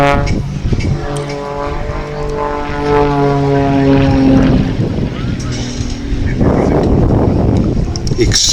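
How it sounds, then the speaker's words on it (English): A Pitts Special aerobatic biplane fitted with a jet, roaring loudly through tight manoeuvres at an air festival, its engine tone sweeping and surging, with a commentator talking over it. "The acceleration that that aircraft has is absolutely incredible."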